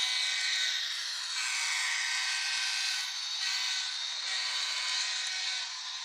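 A model train locomotive at throttle 8 runs around a layout with a steady high hissing whine, moderately loud and unbroken, with no voices.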